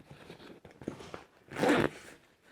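A zipper on a Savotta 8 litre side pouch being pulled, a few short scratchy rasps ending in one longer, louder zip, close and alone.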